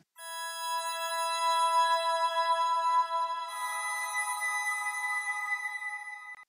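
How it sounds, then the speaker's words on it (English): A soloed guitar signal through a Guitar Rig 6 pitch shifter set two octaves up gives a thin, glassy, bell-like high shimmer, sustained softly for several seconds with a change in pitch midway. "I want to add one extra pitch shifter, but it's going to add 2 octaves."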